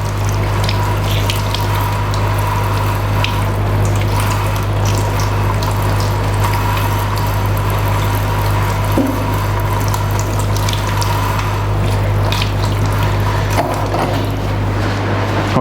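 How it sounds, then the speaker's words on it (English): Tap water runs steadily and loudly into a sink, a constant close rush with a low hum underneath and faint clatters of handling, no talking. "so I had to rinse again to be sure"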